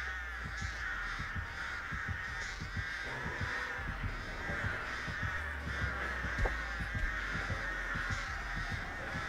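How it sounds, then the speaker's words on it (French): Crows caw repeatedly from several directions in the horror game Dead by Daylight, a steady flock of harsh calls over a low droning ambient bed, with no speech. "Attends, qu'est-ce que c'est que ces corbeaux autour de moi?"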